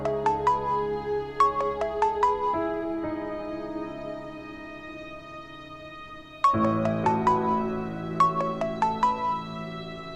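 A melodic phone ringtone plays a repeating pattern of bright chiming notes over a soft backing tune, looping twice.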